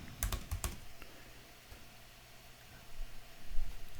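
Quick taps on a computer keyboard in a quiet room, a short burst of a few keystrokes at the start followed by softer scattered clicks and low hum.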